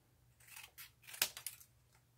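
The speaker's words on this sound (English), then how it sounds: "And we're going to cut triangles again." Scissors snip through folded craft paper to cut out triangles, a few quick soft cuts close by with one sharper snip in the middle, no talking.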